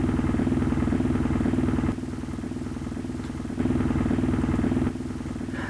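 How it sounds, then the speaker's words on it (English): Engine room noise aboard a train in a video game: a steady, loud mechanical drone with rhythmic clatter that swells louder twice, around two and four seconds apart, as if a door opens onto it, with no talking. "When you open the door to the engine room, the engine noise gets louder."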